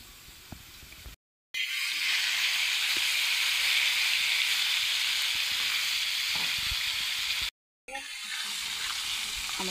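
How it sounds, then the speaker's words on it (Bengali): Fish frying in hot oil in a home kitchen, a loud continuous sizzle and hiss broken twice by brief cuts to silence. "আমার মাছটি ভাজা হয়ে গেছে"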